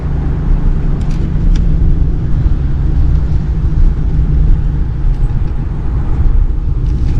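A car passes on a suburban road near a bike lane, a steady low engine and tire rumble with broad road noise that stays fairly loud and even throughout.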